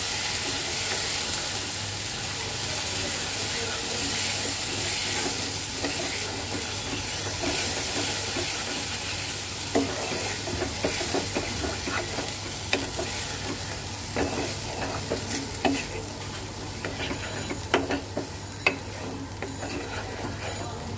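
Spices fry and sizzle steadily in a pan with a soft constant hiss, while a spoon scrapes and stirs in irregular clinks that grow busier toward the end.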